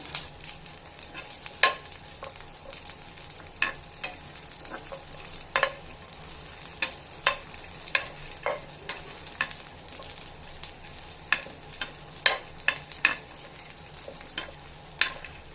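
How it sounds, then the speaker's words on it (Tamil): Green chilli, garlic and vegetables sauté in a pan for a drumstick-leaf dosa, giving a steady sizzle with frequent sharp stirring scrapes and clinks of a spoon, close and alone without talk. "இது எல்லாத்தையும் சேர்த்து நல்லா வதக்கிக்கணும்"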